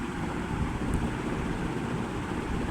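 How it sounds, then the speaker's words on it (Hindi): A bowlful of water is poured into masala cooking in a pan, giving a steady, dense rushing hiss that runs evenly from start to finish. "तकरीबन 1 कटोरी में भर के पानी की डालने लगा हूँ"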